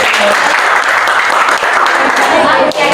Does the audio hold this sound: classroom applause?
yes